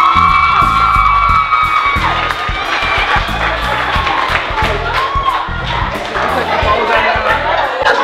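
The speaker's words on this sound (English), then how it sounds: "give Mr. Common a round of applause" An audience at a school event cheers, whoops and yells while applauding a teacher; loud and sustained throughout, with shouted voices above a crowd roar and clapping.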